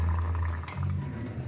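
Pasta cooking water pours through a strainer into a container set below it, a steady close splashing gush that runs throughout, heavier at the start and slightly easing toward the end.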